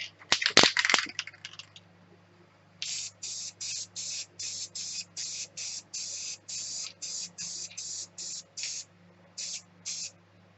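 After some rattling and clatter, an aerosol spray can hisses in a steady series of short, even bursts, close up and fairly quiet, spraying onto Oracal 651 vinyl.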